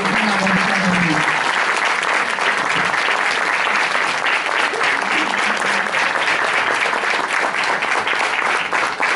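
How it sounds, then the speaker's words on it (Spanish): An audience applauds loudly and steadily at a poetry recital. Dense, sustained clapping runs the whole stretch, with faint voices mixed in. "a su esposa quiero que le demos un aplauso muy fuerte"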